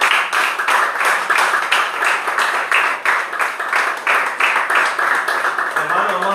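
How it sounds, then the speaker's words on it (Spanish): A church congregation claps and applauds together, a steady dense patter of many hands lasting several seconds, loud and close, with faint voices mixed beneath. "Y un aplauso al Señor."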